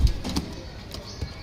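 Breeder pair of Ferozpuri pigeons giving soft, low coos in a brief, close burst of a few muffled pulses.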